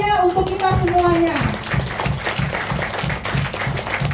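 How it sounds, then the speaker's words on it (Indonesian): An audience at a training event breaks into loud, sustained applause, with a voice speaking over the clapping at the start before the crowd claps on alone. "beri aplaus yang sangat meriah untuk kita semuanya"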